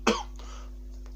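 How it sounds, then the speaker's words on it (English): A single short cough close to the microphone, a sharp burst followed by a faint throaty tail in an otherwise quiet room with a low steady hum. "I knew I was going to cough by the end of this video."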